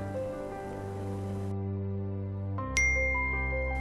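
A phone's incoming message notification plays once as a short bright chime near the end, cutting in over a steady low tonal background.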